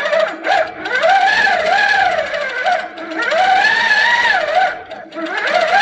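A sitdown longarm quilting machine stitching, with its motor whine rising and falling in pitch across several sustained runs and brief dips between them, close and loud.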